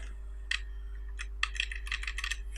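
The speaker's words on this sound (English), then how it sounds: "I'll just use my keyboard to randomly bring them closer" Computer keyboard keys tapped while nudging objects in Animate CC 2017, a quick burst of clicky presses around half a second, then irregular runs of keystrokes, close and fairly quiet over a steady low hum.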